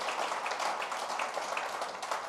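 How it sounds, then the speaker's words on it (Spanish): Applause from a church congregation, a steady wash of many hands clapping with a faint rhythmic pulse, sustained throughout without speech. "Fuerte el aplauso al Señor."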